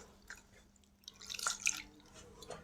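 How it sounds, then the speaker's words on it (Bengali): Water trickles and drips over roasted mango in a bowl, a faint, close run of small splashes and drips that grows slightly busier midway before fading. "জল দিলে এর খোসাটা খুব সুন্দরভাবে উঠে যায়।"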